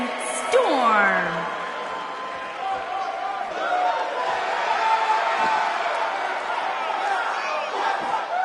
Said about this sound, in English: Sounds to me, guys, like this crowd is ready to get this night started